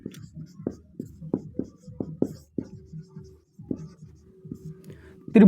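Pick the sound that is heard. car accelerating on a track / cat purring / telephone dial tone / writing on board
writing on board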